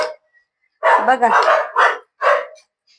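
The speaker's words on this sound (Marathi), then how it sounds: "कुत्र्यांचा तर फार दांगोडा चाललाय" Several dogs bark in loud, close bursts, a quick cluster of yaps followed by one more sharp bark, and a voice speaks briefly between them.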